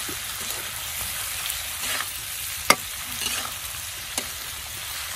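Shrimp sautéing in butter in a hot pan, a steady soft sizzle with occasional stirring scrapes and one sharp clink, close and alone with no talk.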